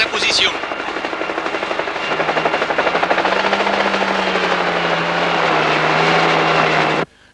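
A helicopter in flight gives a loud, steady rotor chop and engine roar that carries on for several seconds before cutting off abruptly.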